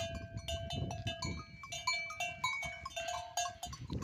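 Goats in the dry caatinga scrub, among them a black-headed billy goat, bleat close by over ringing, clinking neck bells, with layered, overlapping calls and a scuffing undertone.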